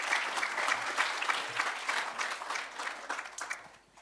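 An audience at a Hawke's Bay community event claps in sustained, dense applause that swells and then tapers off, with faint voices underneath.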